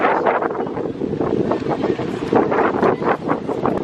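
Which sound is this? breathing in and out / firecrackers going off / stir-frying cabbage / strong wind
strong wind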